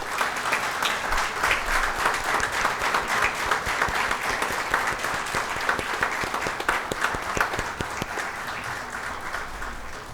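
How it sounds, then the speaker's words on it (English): Sustained applause from a convocation ceremony audience clapping for the faculty members, dense and steady throughout with many hands close and far, no talk over it. "let us clap for faculty members first."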